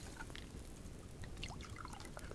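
Water trickles and pours steadily as containers are filled in the survival video game Subsistence, a soft continuous splashing with faint gurgles and no talking.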